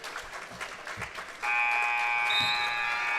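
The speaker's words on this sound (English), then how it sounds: "There's the buzzer." A long, steady electronic game-end buzzer sounds across a high school basketball gym after faint crowd noise, holding loud and unbroken to the end.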